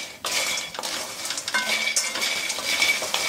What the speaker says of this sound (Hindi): ये देखिए बड़ी को मैंने 3 से 4 मिनट धीमी आंच पे अच्छे से लगातार चलाते हुए भून लिया।